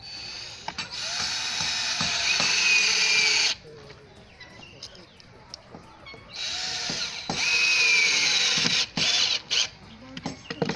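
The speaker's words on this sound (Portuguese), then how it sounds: "vou colocar mais dois parafusos desse lado aqui para sustentar mais" Power driver whirring in two long bursts as screws go into a makeshift wooden bench that will hold a sugarcane grinder, with clicks and handling noise in between.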